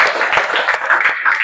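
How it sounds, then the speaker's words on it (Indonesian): Classroom of students clapping together for a short burst, dense and close, with some voices mixed in. "Tepuk tangan dulu buat kalian semua."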